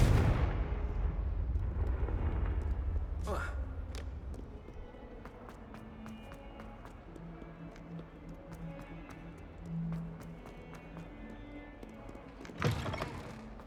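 A Confringo fire spell goes off in Hogwarts Legacy: a loud, rumbling blast that fades over several seconds, then another sharp burst near the end, with faint game ambience between.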